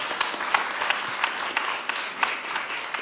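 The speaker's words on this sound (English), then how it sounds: "round of applause here, we're done" Audience applause after a startup pitch at a summit session, a sustained dense clapping from a crowd with occasional sharper single claps popping out, moderately loud and steady.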